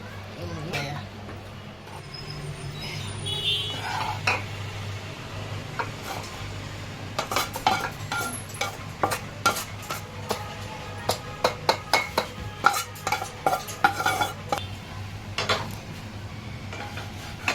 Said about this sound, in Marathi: मंडळी आता खसखस भाजून घेतले आणि त्यानंतर हे मनुके भाजून घेतलेले आणि आता सोनाली भाजते